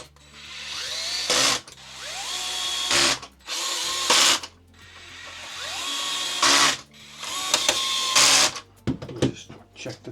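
A power tool drives five quick MA15 self-tapping screws into a bracket on a Tamiya Scania 770S 8x4/4 model truck, giving several loud whirring bursts with short pauses between them, close by.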